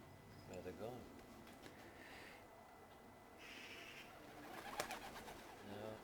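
Racing pigeons return from a training toss and circle without landing, soft cooing calls sounding faintly under people talking outdoors.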